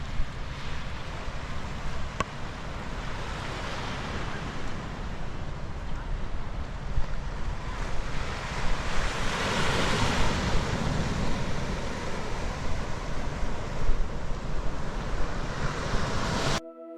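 Waves wash onto the shore at Cluvers Beach in Aurora, a steady, loud roar of surf with wind buffeting the microphone throughout and no clear breaks between waves.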